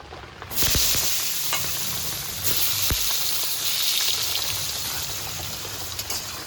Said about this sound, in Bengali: এবার পটলটা মাখিয়ে তেলের মধ্যে ছেড়ে দেব।